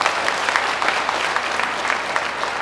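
Steady applause from an audience at a Tamil debate-style speech event, dense clapping filling the room without a break, fairly loud and continuous.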